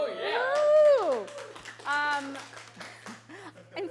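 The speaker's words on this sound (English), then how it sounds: "I can't believe I got an applause for that" Audience applause during an immigration law Q&A talk, a scatter of hand claps in the room following a voice whooping loudly, with other voices nearby.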